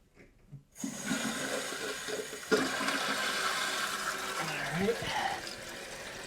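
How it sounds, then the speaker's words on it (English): A Toto Aquia II toilet tank refills with water after a flush valve replacement, a steady rushing hiss of filling water that starts abruptly after a quiet moment and continues evenly and nearby. "So we'll just let the tank fill up."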